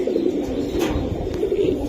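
Pakistani teddy pigeons and high-flying Giribaz pigeons coo softly close by, a low, steady burbling murmur with no voices.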